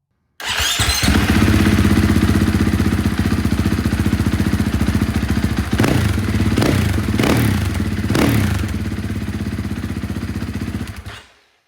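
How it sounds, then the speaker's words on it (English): A KTM 500 EXC-F dirt bike fitted with an aftermarket exhaust idles loud and close, with a steady thumping single-cylinder rumble broken by three sharp throttle blips before it shuts off. "Let's hear this thing run."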